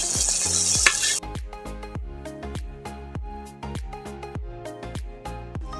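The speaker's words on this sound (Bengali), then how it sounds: "এখন আমি দিয়ে দেবো ভাজা মাছগুলোকে" Pieces of fried bata fish drop into a hot pan with a sharp, loud sizzle that lasts about a second, then give way to steady rhythmic music as the fish is stirred in with sugar.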